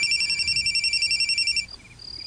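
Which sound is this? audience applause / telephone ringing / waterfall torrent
telephone ringing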